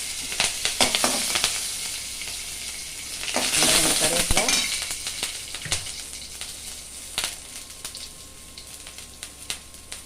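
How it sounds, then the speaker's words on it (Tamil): Green chillies fry in hot oil in a pan for tempering, giving a steady close sizzle with bursts of spattering crackle and stirring scrapes, loudest in the middle. "நான் பச்சை மிளகா கொஞ்சம் போட்டுக்கிறேன் காரத்துக்கு"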